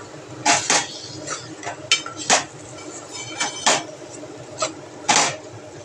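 A metal spoon stirs homemade black masala paste of coconut and onion in a cooking pot for crab curry, giving sharp, irregular clinks and scrapes against the pot, about a dozen strikes, close and clear.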